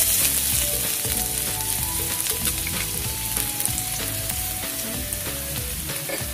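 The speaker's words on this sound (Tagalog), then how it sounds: "Gigisahin lang natin to" Chopped garlic sizzles and fries steadily in a hot pan for a Hawaiian tripe stew, a dense continuous crackle with occasional stirring scrapes throughout, close and fairly loud.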